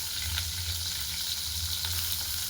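Garlic dropped into hot oil already holding cumin seeds and onion, cooking for kadai paneer, gives a steady close sizzle and frying hiss throughout with a few faint scraping stirs, no talking.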